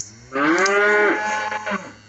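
A single loud, drawn-out moo from a cow on a Minnesota farm, close to the microphone and rising then trailing off over about two seconds.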